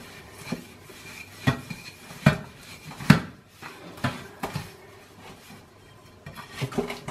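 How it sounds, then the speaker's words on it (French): Butter being mixed with sugar in a bowl for a lemon tart, with irregular clinks and scrapes of a utensil against the bowl, some sharp knocks standing out among softer stirring sounds. "Là, je mélange le beurre avec le sucre."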